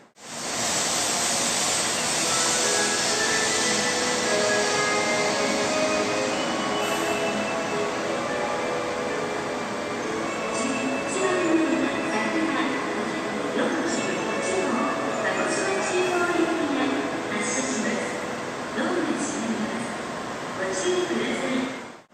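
A Sakura 541 Shinkansen bullet train pulls out of Hiroshima Station, its steady rumble and rising whine filling the platform alongside a departure melody, with some faint voices in the background.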